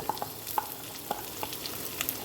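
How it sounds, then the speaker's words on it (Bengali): Chickpeas frying in a pan, a soft continuous sizzle with a few light clicks and taps of a spatula, close and quiet with no speech. "ছোলাটা একটু ভাজা হয়ে গেলে"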